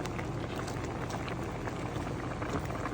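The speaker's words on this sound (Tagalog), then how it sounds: "Kaunting init na lang yan, pakulo." A pot of coconut milk tilapia stew with pechay bubbling on the stove, giving a steady, close, dense boiling and simmering hiss with no break.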